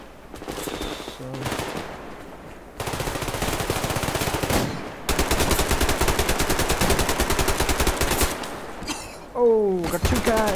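Gunfire in the shooter game Survarium, including a Mosin rifle, comes as long loud bursts of rapid, dense shots in close succession, with a few brief gaps between volleys and some voice near the end.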